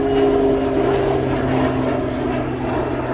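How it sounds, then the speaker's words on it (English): A DC-10 on approach toward Anchorage gives a loud, steady aircraft engine drone with a low tonal hum, continuous throughout the short stretch and with no voices. "DC-10 heading to Anchorage right now."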